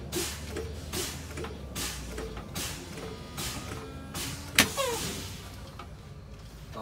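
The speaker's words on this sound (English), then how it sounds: "I'm just gonna pump the brakes until both of my brakes pop out" A truck's air brakes are pumped repeatedly during a spring brake test: rhythmic bursts of hissing air, evenly spaced, then a sharp loud release pop near the end as the spring brakes pop out, followed by fading hiss.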